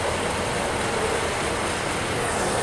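A steady rolling rumble with a constant broadband whir of a model train carrying a PCC car running on a layout track, even and unbroken throughout.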